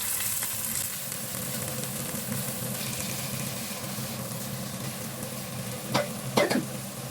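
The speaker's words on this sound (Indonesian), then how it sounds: "jadi ini rinderolade yang udah aku goreng" Beef roulades (Rinderrouladen) frying in a pan, a steady close sizzle with occasional sharp crackles and pops toward the end, no talking.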